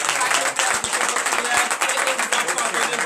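A church congregation claps and cheers in a dense, steady wash of applause throughout, with a voice speaking over it.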